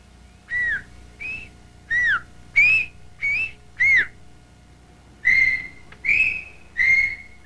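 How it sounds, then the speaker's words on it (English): A series of short, single-syllable whistles by a person, recorded into a microphone and played back over a loudspeaker in a listening experiment, about ten separate clear tones in a steady sequence with brief pauses between them, each loud and close against a faint background hum. "whistled single syllables into a microphone"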